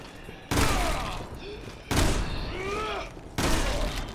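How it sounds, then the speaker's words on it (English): A shotgun fires three times in the video game Resident Evil 6, each loud, booming blast spaced about a second and a half apart and trailing off in a long, rumbling decay. "Shotgun."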